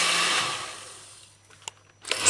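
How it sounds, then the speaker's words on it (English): An electric blender whirs loudly while blending a thick stinking toe (locust or jatoba) energy drink, then winds down to near quiet, ending with a couple of small clicks. "Use the blender's lid, cover it properly, and then blend it smooth."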